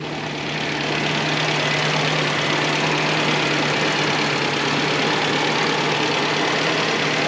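An Isuzu car engine idles steadily and loudly up close, a constant low rumble with a hum underneath that never changes across the whole stretch.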